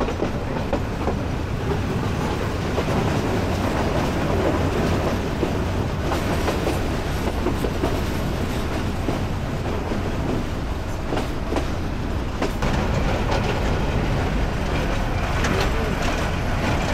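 Train running near Kumira railway station through hill country, a sustained heavy rumble and clatter of wagons with repeated wheel clacks, loud and close throughout with no talk.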